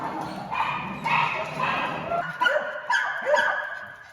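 Several dogs bark and yip in short overlapping bursts indoors in their room at a mountain dog shelter, close and fairly loud, with brief whimpering between barks.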